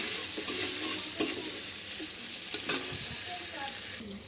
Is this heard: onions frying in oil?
yes